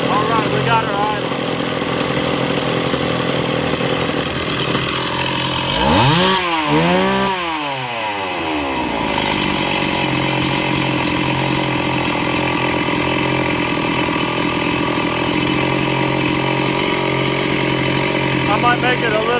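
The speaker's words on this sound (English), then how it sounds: "got her idle." A Stihl 038 Magnum chainsaw idles steadily and loudly throughout, a continuous engine drone with a brief swell in pitch partway through.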